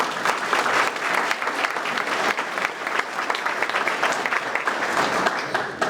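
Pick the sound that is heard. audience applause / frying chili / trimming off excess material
audience applause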